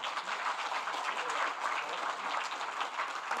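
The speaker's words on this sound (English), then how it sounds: "So if you give them a round of applause" Audience applause for presenters at a global finance conversation event, a continuous even patter of many hands clapping in a room for a few seconds.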